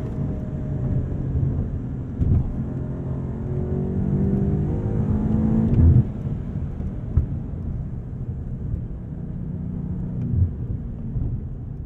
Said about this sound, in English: That is that's brutal acceleration.